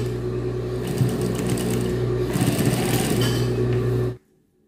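A sewing machine stitching close along a bra seam, a steady close whirring hum with rapid needle clatter for about four seconds before stopping abruptly.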